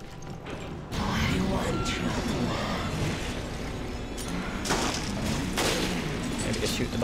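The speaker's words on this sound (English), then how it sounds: "I just shoot her twice and ignore the bastard" Gunfire from shooting an enemy in the video game Resident Evil Revelations, several loud sharp shots and booming bursts over a dense game soundtrack, with someone talking over them.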